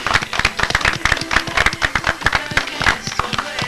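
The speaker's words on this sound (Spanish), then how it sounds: "El aplauso para Vicente." Studio audience applause on a TV show, a burst of rhythmic clapping from a group, fairly close and lively, with voices mixed in.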